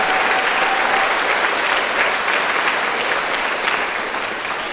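A school choir cabaret concert audience claps for the choir boosters and parent volunteers, a dense, loud, sustained burst of applause filling the hall.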